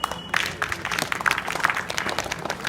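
Students in a school hall in Hafizpur, Azamgarh applaud with many hands clapping at once, a moderately loud, continuous patter with individual claps poking through.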